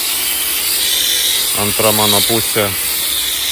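Steady hiss from a car wash pressure sprayer runs throughout, close and even, while someone talks briefly over it partway through.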